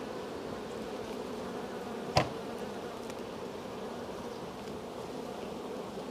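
Honey bees swarm around an open hive during a colony inspection, a steady dense buzz filling the scene with one brief louder knock partway through.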